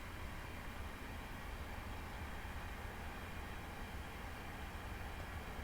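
Voyager train cruising at speed on the North Wales Coast Line in Train Simulator Classic, a steady quiet broadband rumble and hiss that stays even throughout with no voices.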